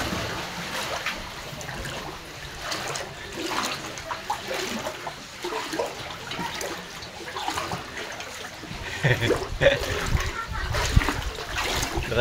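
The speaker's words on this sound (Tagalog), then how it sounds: "Malakas alon dun." Strong waves splash and churn close by in a steady rough wash with heavier surges toward the end, while people talk and call out over the water.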